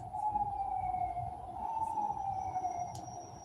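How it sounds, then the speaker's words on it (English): Emergency vehicle sirens wail far off, faint and steady with a slow rise and fall, over a low rumbling background. "You hear them sirens?"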